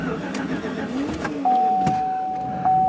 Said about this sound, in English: oh, come on, Chevy, you can start.